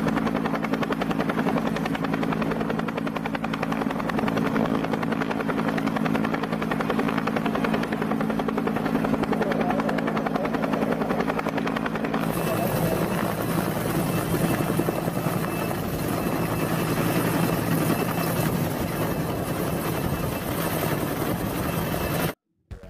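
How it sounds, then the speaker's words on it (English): A rescue helicopter's rotor and engine drone loudly and continuously, the pitch and texture shifting partway through as it passes close by. "it is rescuing using the other helicopter"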